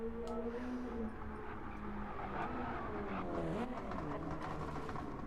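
An orange race car in a racing video game drones along under steady engine tones that shift pitch through gear changes, with occasional tire noise beneath a continuous mix.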